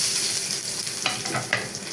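Garlic is tossed into hot oil that already holds cumin seeds and chillies for an Indian tadka tempering; a steady, loud sizzle and frying hiss continue with a couple of sharper crackles.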